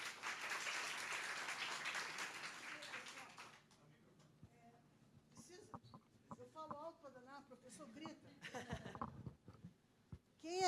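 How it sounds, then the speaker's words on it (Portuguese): Audience applause at a geology lecture after a speaker introduction, a loud burst of clapping that fades out within a few seconds, followed by quieter room sounds and voices. "Palmas para a Rosa."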